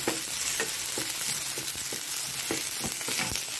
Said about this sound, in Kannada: ಬೆಳ್ಳುಳ್ಳಿ ಒಳ್ಳೆ ಫ್ರೈ ಆಗಬೇಕಿದ್ರಲ್ಲಿ